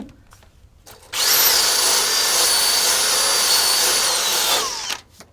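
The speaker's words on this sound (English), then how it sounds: "We're not going to be able to use the grinder then." A power grinder whines at full speed for about four seconds on the rear deck of a narrowboat. It starts abruptly, holds a steady high-pitched screech and then spins down.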